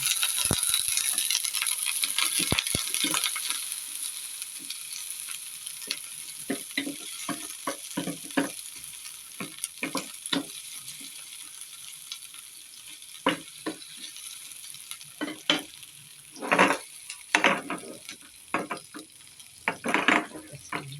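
Opo (bottle gourd) sautéing in a pan with other ingredients, a steady hiss of frying broken by repeated clinks and scrapes of a utensil stirring, close and fairly loud with no voices.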